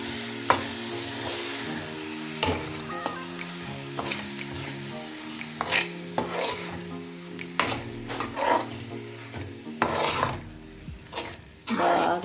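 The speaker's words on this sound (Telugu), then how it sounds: "బాగా వేయించుకున్నాక" Eggplant masala curry stirred and frying in a pan with salt and turmeric, a steady sizzle running throughout under repeated scraping and rasping strokes of a spoon against the pan, close and fairly loud, with no talking.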